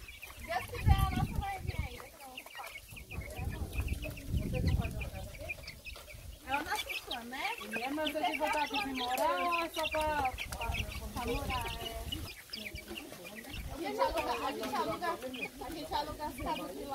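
Several free-range chickens cluck and chatter continuously nearby on a poultry farm, while someone talks over them for much of the time.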